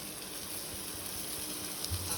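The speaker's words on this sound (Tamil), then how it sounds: "இப்போ நான் வந்து தக்காளி போட்டுக்கிறேன்." Tomatoes tossed into golden-brown fried onions for tomato chutney give a steady, close sizzle that holds evenly throughout, with no talking.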